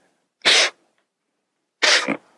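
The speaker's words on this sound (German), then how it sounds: "niese ich und da muss ich heftig niesen" Two forceful human sneezes, each a short explosive burst, separated by about a second of silence, close and loud with no talking.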